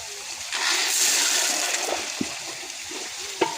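Water gushing and splashing out of a borewell as a 190-foot, 8-inch casing pipe goes in with gravel packing, a steady rushing flow close by with a few sharp knocks and splatters.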